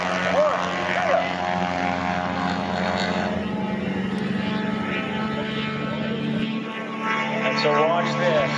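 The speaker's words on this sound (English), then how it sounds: "Steve Henry, Wild West Aircraft, flying his Just Highlander" A Just Highlander STOL propeller plane from Wild West Aircraft takes off at a STOL drag race, its engine drone steady and loud throughout, with a crowd and a voice talking over it.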